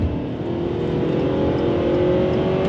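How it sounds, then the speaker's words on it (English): A 2022 Ford Maverick small truck's turbocharged inline-4 engine pulls steadily under throttle, its buzzy drone rising smoothly in pitch and holding loud and close from the cabin, alone with no talk. "It's a little bit of a buzzy engine, but it is an inline-4 turbocharged engine"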